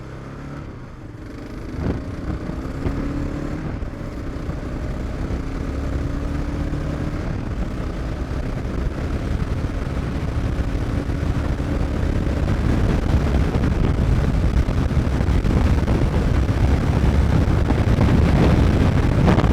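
A Kawasaki KLR650 motorcycle on a morning commute accelerates as engine tones rise in pitch, with wind noise building to a loud, steady roar.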